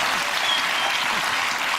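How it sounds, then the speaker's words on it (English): Audience applause fills the whole stretch, a dense, steady wash of clapping at even loudness with no pauses. "I don't think we should applaud that sort of thing."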